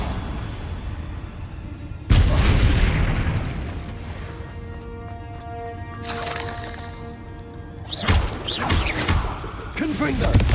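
A Bombarda spell explosion in the video game Hogwarts Legacy erupts as a single loud, deep boom, then rumbles and fades beneath game sounds, with further bursts of noise near the end.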